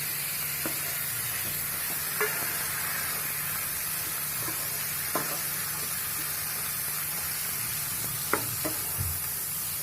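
Tomatoes tipped into a pan of frying fish keep up a steady hiss and sizzle, with a few sharp clinks of a utensil stirring through the oil and no voices.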